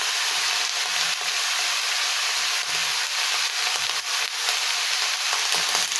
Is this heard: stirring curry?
yes